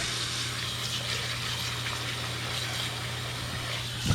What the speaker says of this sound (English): just fill it up with a little bit of cold water